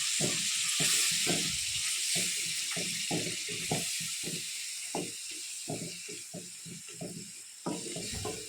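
Steady sizzling and frying hiss from a pan of spinach paste, with a run of soft stirring scrapes and clatters throughout, close and continuous.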